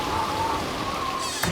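Heavy rain pours down in a steady, dense wash that covers the whole stretch, with a faint tone running through it and a brief louder patter near the end.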